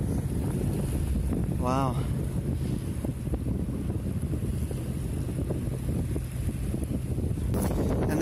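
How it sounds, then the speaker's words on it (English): A fast speedboat passes on the water off Spanish Banks beach, its engine drone partly buried under heavy wind buffeting on the microphone, with a brief spoken exclamation early on. "That's a pretty fast speedboat, actually."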